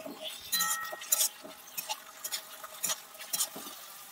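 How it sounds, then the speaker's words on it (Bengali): Spoon stirring chicken with ground spices and chopped green chilli in a bowl for Bengali chicken kosha, giving soft irregular clinks and wet patters in scattered bursts, close and fairly quiet with no talk. "সমস্ত মশলা দেওয়ার পর আমি এটা ভালোভাবে মিশিয়ে নিচ্ছি।"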